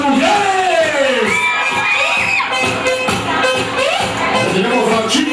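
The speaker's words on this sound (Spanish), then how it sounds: "Eso, esos aplausos, esos aplausos." A loud crowd cheers, whoops and shouts with high excited voices, a continuous lively roar up close.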